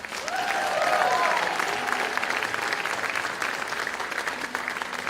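Applause for a performer at a school district talent show breaks out near and full, holds steady for a few seconds, then thins slightly. Faint crowd noise sits under the clapping.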